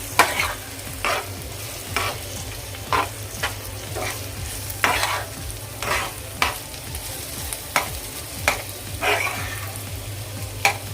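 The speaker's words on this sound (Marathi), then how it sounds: "सर्व मिक्स करून घेऊया" Cauliflower and egg bhurji stirred in a pan, a repeated scraping of the spatula at roughly one-second intervals over a constant low sizzle, close and clear with no voices.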